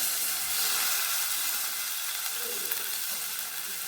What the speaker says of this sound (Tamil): இப்போ புளி தண்ணி வந்து பெரிய எலுமிச்சம்பளம் சைஸுக்கு புளி தண்ணி காய்ச்சி வச்சுருக்கேன் அதை சேர்த்துக்கிறேன்